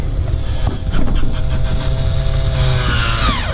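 Motor on a MaxxAir roof fan vent in a converted cargo van closes the lid with a steady, rising mechanical whine over a low, constant rumble, with no talking.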